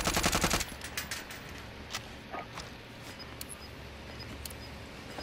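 A short, dense burst of rapid gunfire opens, loud and close, in a shooter video game. Scattered fainter shots and footstep-like clicks follow, with no talking.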